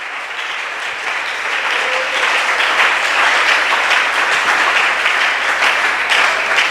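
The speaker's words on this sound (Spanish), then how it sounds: "Dele un aplauso al Señor." A church congregation applauds during a Spanish-language sermon, a loud, sustained wash of many hands clapping that swells after the first second and holds steady for several seconds, with faint murmuring voices underneath.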